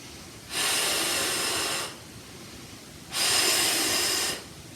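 A person breathing during a barre workout: two long, heavy, airy breaths, each lasting over a second, close to the microphone with a pause between them.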